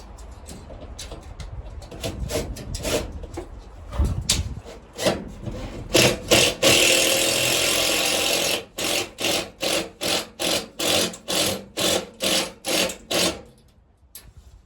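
A power drill whirs in bursts, first irregular then a rapid run of short, evenly spaced pulses, close and loud, as screws are driven in while a greenhouse is dismantled.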